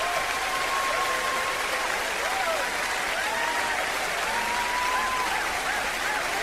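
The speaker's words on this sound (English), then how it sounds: "Every country's got its cheering section here, of course." Audience applause and cheering fills the hall at the 1996 Eurovision Song Contest in Oslo, a continuous dense crowd roar with faint whistles, while a commentator talks over it.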